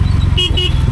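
A motorcycle horn sounds twice in quick succession during a bike service, short loud toots over a steady low engine rumble, with no talking.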